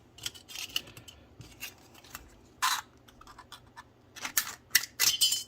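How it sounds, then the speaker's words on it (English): Scissors snip through tin sheet, cutting it into strips in a workshop, with sharp, bright metallic crunching bursts spaced irregularly between quieter scraping and handling noises, close and clear with no talking. "Now these pieces can be cut with scissors like this"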